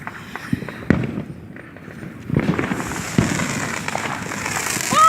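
Fourth of July fireworks burst at a distance, a few sharp booms followed by crackling and fizzing, with scattered louder explosions rising toward the end.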